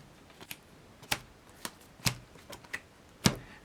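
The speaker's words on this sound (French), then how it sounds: "nous allons prendre les 10 cartes numérotées de 1 à 10, les mélanger et en distribuer une à chaque joueur face cachée" Ten numbered playing cards for a party game are handled and shuffled, giving sparse sharp card snaps and light flicks spaced irregularly over quiet background.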